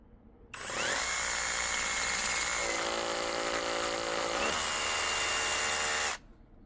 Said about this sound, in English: today we're gonna bring a actual hammer drill